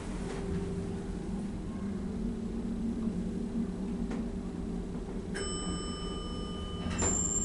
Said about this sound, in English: Trusty Montgomery bell.